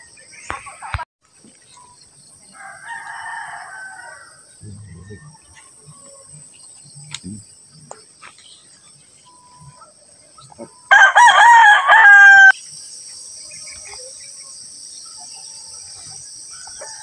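A rooster crows once, loud and close, lasting about a second and a half against a quiet outdoor backdrop with a steady insect drone.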